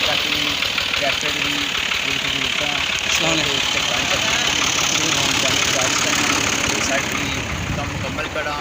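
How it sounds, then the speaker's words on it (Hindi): Tractor engine running nearby on a village road construction site, a steady loud chugging drone with rhythmic knocking that persists throughout, with people talking over it. "ट्रैक्टर"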